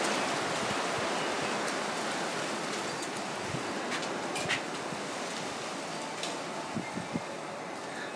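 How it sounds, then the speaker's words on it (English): Strong wind blowing outdoors as a steady, dense roar with faint scattered knocks and rattles, close and continuous with no talking. "Look at this wind."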